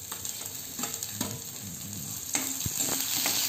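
Green peas and green chilies fry in a pan over low flame, a steady close sizzle broken by scattered stirring clicks and taps.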